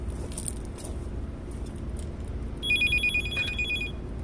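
A telephone rings after a number is dialed, with repeated electronic ring tones starting partway through, fairly clear over a low background hum.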